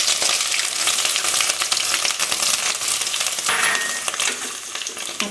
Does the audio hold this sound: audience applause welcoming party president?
no